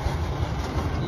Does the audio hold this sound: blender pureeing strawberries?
no